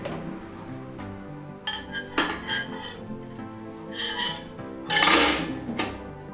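Cake tin with batter being placed into a preheated convection oven, a few sharp metallic clinks and clatters with a louder rattling clang near the end, close and with no talk.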